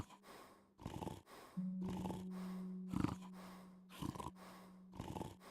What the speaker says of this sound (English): from the snoring, I guessed he'd only fainted